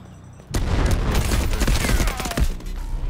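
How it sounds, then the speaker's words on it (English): Machine gun fire in the video game Delta Force, a sudden loud sustained burst of rapid shots with booming low end and echoing tail, starting after a quiet moment and easing briefly near the end. "It's a machine gunner."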